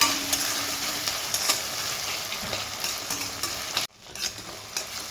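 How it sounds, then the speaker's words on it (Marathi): Onion and tomato sautéing in a pan, a steady close sizzle with scraping stirs throughout, briefly cut off near the end before frying resumes. "आता टोमॅटो घालून घेतला आहे. तो पण छान परतून घेते जरा 2-3 मिनिट."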